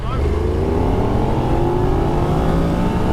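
A KTM Super Duke EVO and a Yamaha MT-10 SP pulling away side by side in second gear from 20 mph, a loud close engine drone with rising revs sustained throughout amid wind noise.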